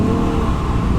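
A car engine droning steadily under light throttle during a first drift lesson, loud and close from inside the cabin, with no clear rise in revs.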